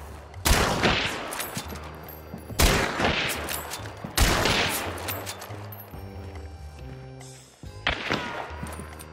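Loud bursts of gunfire in a solo-versus-trios shooter video game repeat every couple of seconds, each crack followed by ringing echoes, with game sounds and no talk.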